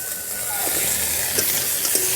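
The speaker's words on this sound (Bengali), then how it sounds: "আর একটু গুঁড়ো লঙ্কা দিয়ে মশলাটা ভালো করে কষে নেব।" Spice paste with turmeric and ground chilli fried in a pan for a koi fish curry, a steady broad sizzle with a few faint scraping stirs, close and continuous.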